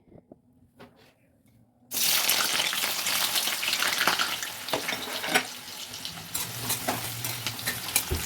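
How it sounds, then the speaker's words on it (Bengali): Chopped onions go into hot mustard oil in a wok for duck curry. After a quiet start, a sudden loud sizzle erupts and keeps up a dense, crackling hiss with occasional stirring knocks. "এই কুচনো পেঁয়াজগুলো আমি তেলে দিয়ে দিচ্ছি"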